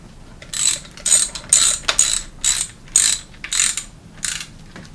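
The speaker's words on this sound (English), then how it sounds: "So when you tighten it up, you just want to snug it a little bit." Tightening the top cap of a threadless bicycle headset with a ratchet tool, producing about eight crisp ratcheting bursts in a steady, close rhythm, with no talk.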